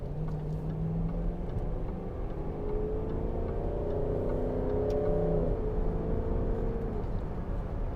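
A 2012 Range Rover 4.4 TD V8 diesel hums steadily while driving, heard from inside the cabin as a low continuous drone with a gentle rise in pitch partway through, no voices over it.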